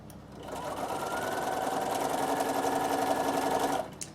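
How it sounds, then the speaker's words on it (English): A sewing machine stitches fabric for a beginner's Christmas table runner, giving a steady, continuous mechanical whir for about three and a half seconds before it stops, with no talking over it. "So just stitch from this end, and I'll just do a little tiny bit so I can show you the ends."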